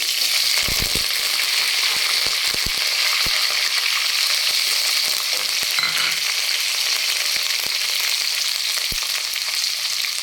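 Chopped onion and curry leaves frying in hot oil, a continuous dense sizzle lasting several seconds, broken by scattered sharp clicks and taps of a spoon against the pan.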